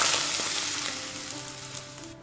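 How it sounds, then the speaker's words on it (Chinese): Smoking-hot oil hits Sichuan peppercorns and dried chilies in a bowl, bursting into a loud crackling sizzle that slowly fades over about two seconds, with no talking. "热油，油冒烟后泼在花椒、"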